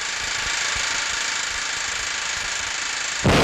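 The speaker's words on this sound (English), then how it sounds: "Bulldozers clear the last stretches of some of the worst terrain in the world." Bulldozers clear a road through rough terrain with a loud, steady mechanical clatter and engine drone. The sound abruptly shifts to a deeper rumble at the end.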